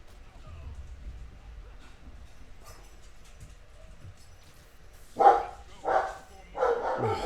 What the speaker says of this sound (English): They have to bark inside the house first and then go outside and bark.